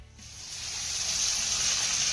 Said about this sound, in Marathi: त्यानंतर हा कांदा आपल्याला मौसूद होईपर्यंत छान परतून घ्यायचा आहे